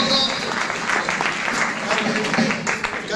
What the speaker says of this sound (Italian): Un applauso, Angelo Poco